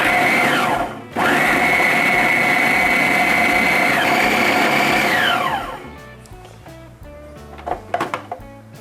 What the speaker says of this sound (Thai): เราปิดฝาแล้วมาปั่นกันเลยค่ะ